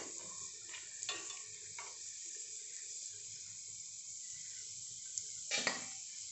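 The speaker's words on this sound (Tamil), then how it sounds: "ஸோ ஸ்லோவாக ப்ரௌன் ஆகுது, பொறுமையாக ஃப்ரை பண்ணணும்." Homemade cheese balls fry slowly in hot oil, a soft steady sizzle with a few brief bubbling bursts, quiet and close, no voices.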